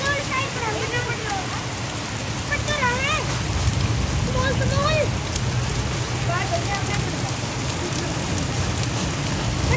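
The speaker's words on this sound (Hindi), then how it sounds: "और ये ओले देखो कितने मोटे मोटे हैं" A heavy hailstorm in Dehradun drums on surfaces and crop leaves in a dense, loud, continuous roar of impacts, while someone talks intermittently over it.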